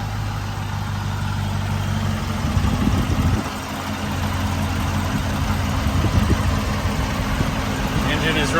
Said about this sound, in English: Engine is running noticeably smoother.